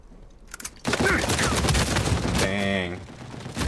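Gunfire in an Uncharted 4 multiplayer match comes as a loud burst of rapid shots with dense crackling, preceded by a short quieter stretch and followed by fading echoes.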